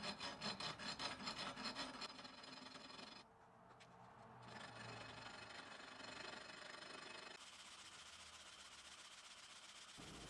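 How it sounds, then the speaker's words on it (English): Sandpaper at 80 then 120 grit rubs a glued inlay flat on a guitar neck headstock, rhythmic rasping strokes at first, then a short lull and steadier continuous scraping, close and faint. "Just roughly sanding it down to get it smooth"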